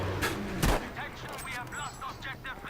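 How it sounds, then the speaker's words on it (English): Sniper rifle shots go off in the video game Battlefield V, with one loud, sharp report near the start followed by fainter distant shots and someone talking over them. "I'm just trying to give him some suppressive fire with my sniper rifle"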